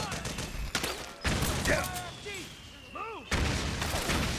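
Machine gun fire in the video game Metal Gear Solid, bursts of gunfire and booms broken by sweeping electronic whistles and tones, with game voices in between.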